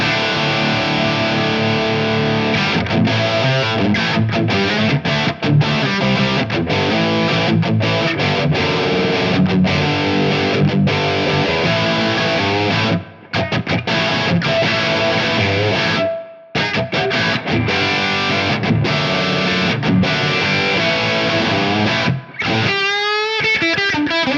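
Electric guitar through a Soldano SLO-style amp tone on its overdrive channel plays continuously with thick, crunchy distortion, strummed chords and riffs with a couple of brief pauses, loud and close.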